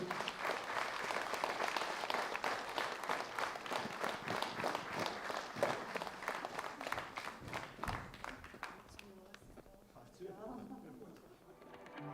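Sustained applause from a concert audience at a tenth-anniversary jubilee concert in Daukšaičiai, dense and steady clapping for about nine seconds before thinning out as music begins underneath.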